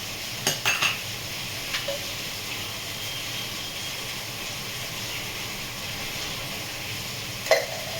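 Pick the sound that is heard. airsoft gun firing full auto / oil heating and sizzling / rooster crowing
oil heating and sizzling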